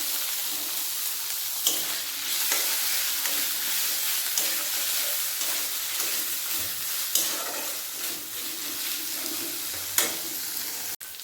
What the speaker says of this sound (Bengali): এর মধ্যে দিয়ে দেবো টমেটো কুচি